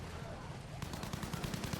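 Gunfire in Battlefield V, a rapid burst of machine-gun shots starting partway through and continuing in a quick rhythmic rattle over low background noise.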